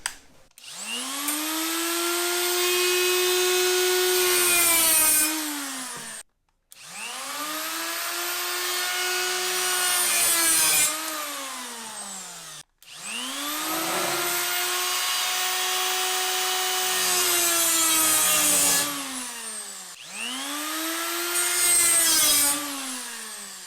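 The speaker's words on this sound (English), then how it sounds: "So I'm just going to take a small cutoff wheel and we're just going to go ahead and mark this." A small cutoff wheel grinds marks into metal on a dune buggy front support, in four long, loud whining passes with the pitch sagging under load.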